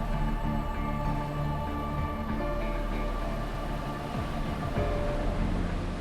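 A train rumbles along a seaside wall with a steady, loud low-frequency roar and a droning hum, and faint rattling and clanks come through over the continuous noise.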